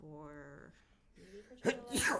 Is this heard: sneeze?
yes